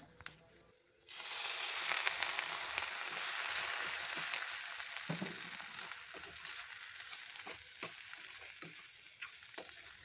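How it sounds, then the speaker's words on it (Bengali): Boiled, cooled pasta drops into a frying pan of softened spring onion, tomato and other vegetables, setting off a loud sudden sizzle that settles into steady frying with repeated sharp scrapes and taps of a stirring spatula. "এখন সেদ্ধ করে রাখা পাস্তাটা এটার মধ্যে দিয়ে দিচ্ছি"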